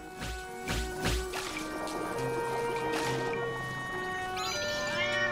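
A cat meows in The Legend of Zelda: Echoes of Wisdom, a few short calls near the start over steady game music, followed by brighter chiming tones toward the end.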